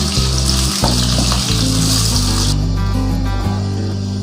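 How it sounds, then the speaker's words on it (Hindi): Chopped onions sizzle and fry in a hot pan while mutton kaleji is being prepared, with a steady crackle alongside a prominent background tune. "अब इसमें डालूंगी ये प्याज जो काट के रखे थे मैंने। इनको थोड़ा सा फ्राई करूंगी।"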